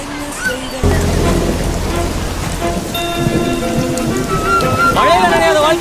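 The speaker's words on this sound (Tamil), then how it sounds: "மழை பெஞ்சிட்டு இருக்கு." Steady rain pours down during a rare downpour in the UAE, a loud continuous hiss of drops on surfaces with some low rumbling, while a person talks over it.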